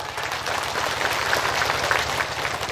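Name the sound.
applause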